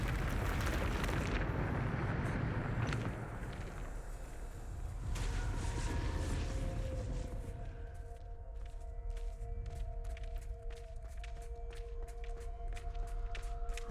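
Bombarda spell blast in Hogwarts Legacy, a loud rumbling explosion with debris that slowly settles, followed by sustained magical tones and quick rhythmic game ticks.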